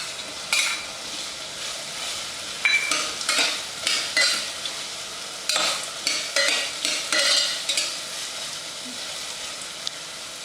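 Onion and potatoes sizzle softly in a frying pan for khichadi while a spoon scrapes and stirs in a repeated rhythm, close and clear with no talking.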